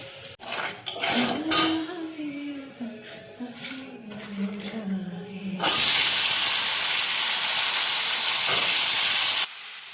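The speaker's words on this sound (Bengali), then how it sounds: "আমি শিম আর আলু একসাথেই ভেজে নিচ্ছি" Flat beans and potatoes frying together in a pan: a voice talks first over light clatter, then a loud, steady sizzle takes over for several seconds before it cuts off.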